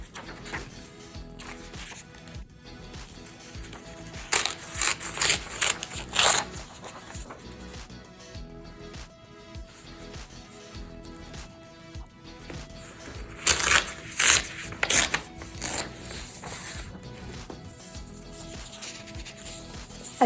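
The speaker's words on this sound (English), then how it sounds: "I've ripped out several pages from my book." Pages being ripped out of a book, two clusters of sharp tearing rips heard close up, each made of several quick tears, separated by quieter handling.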